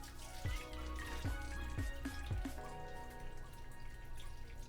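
Beef broth poured into a cooking pot, a soft close liquid stream with a few dripping splashes in the first seconds, fairly faint and steady.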